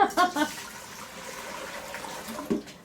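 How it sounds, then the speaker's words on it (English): Running water pours steadily into a cooking pot, a soft continuous rush, with brief voices at the start and near the end. "we're going to fill this pot up"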